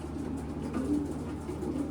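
Soft, low cooing of racing pigeons in a loft, a steady murmur of throaty coos layered over a continuous hum, with no talking.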